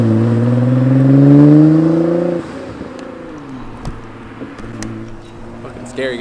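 An Alpha 7 GTR car accelerates hard nearby with a loud rising engine note for about two seconds, then recedes as it drives past, leaving quieter road and wind noise with a few faint clicks.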